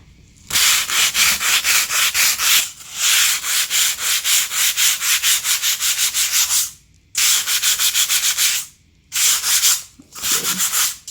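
Wood paneling being hand-sanded smooth as part of a wall cover-up, loud rhythmic back-and-forth rasping strokes in several bursts with brief pauses between, close up and without talking.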